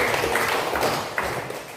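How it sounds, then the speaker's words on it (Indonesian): A classroom of students clapping together in a lesson, a short burst of dense hand claps at moderate loudness with some room noise. "Tepuk tangan dulu."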